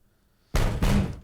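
Two heavy, hard knocks land on a door in a video game, a loud pair of thuds in close succession after a moment of near silence.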